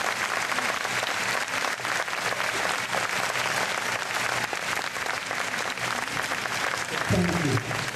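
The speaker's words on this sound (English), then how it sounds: "Let us all give them a lasting round of applause." At a high school graduation ceremony, a large crowd of parents and guests gives the graduates sustained applause. The even clapping runs throughout, with some voices mixed in near the end.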